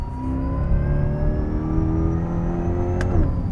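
A supercharged Corvette C8 E-Ray pulls hard in second gear, its engine note rising steadily in pitch with a whining whir on top, loud and close from inside the car before a brief shift-like dip near the end.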